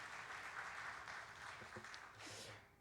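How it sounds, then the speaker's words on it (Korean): Church congregation at a Sunday worship service claps in welcome, a faint, steady patter of applause heard from a distance that fades out near the end. "우리 박수로 환영하겠습니다."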